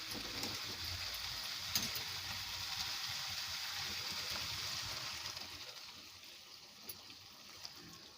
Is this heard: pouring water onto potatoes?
yes